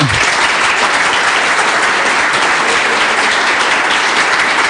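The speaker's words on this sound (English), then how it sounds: "Adam, big hand, applause." Steady, dense applause from a conference audience fills the whole stretch at an even, loud level, with no talk breaking through.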